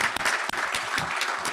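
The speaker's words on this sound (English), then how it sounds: "give a round of applause to the workers who are serving us dinner tonight" Brief round of applause from a dinner audience at a chamber event, dense clapping with individual claps standing out, fairly close and steady for a moment.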